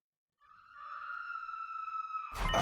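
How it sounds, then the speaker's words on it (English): In a video game, several people scream in the distance, a thin, drawn-out wail rising out of silence and holding for about two seconds before being cut off by a louder burst of noise. "An unfamiliar voice screaming."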